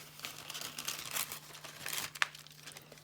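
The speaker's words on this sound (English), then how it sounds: "This is my tracing paper." Tracing paper being handled and crinkled up close, a soft continuous rustle with a few sharper crackles, including one distinct crinkle near the end, with no talking.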